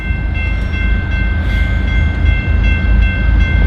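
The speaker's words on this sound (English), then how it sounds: "We got a train coming, folks." A CSX freight train approaches along the tracks near Sharon Road in Stockton, a loud continuous rumble with a sustained horn tone over it and no talking.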